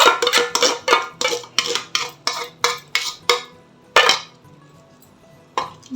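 Mango coconut milk burfi mixture is stirred in a pan, with a utensil scraping and clinking against the metal in a quick regular rhythm, close and clear, then a pause and one last scrape.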